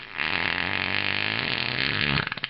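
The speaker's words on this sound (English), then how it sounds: "That's when Vasquez Rocks starts to break wind." A long cartoonish fart sustains loudly for about two seconds, then breaks into a few sputtering pulses at the end.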